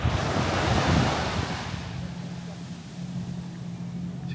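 Surf rolls onto a calm beach at Beef Island in the British Virgin Islands, a soft wash that swells and then fades, with wind buffeting the microphone and a voice talking faintly underneath.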